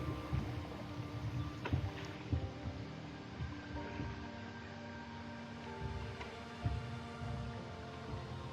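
Kayaks paddling mile after mile down the French Broad River on a camping thru-trip, with soft water splashes and paddle strokes under steady wind noise, a few sharper knocks standing out, no voices.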